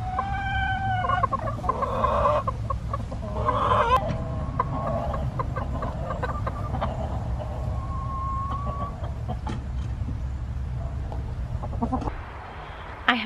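A hen clucks steadily in a coop after her eggs are put back beneath her, low and close, with some other birds calling briefly in the background.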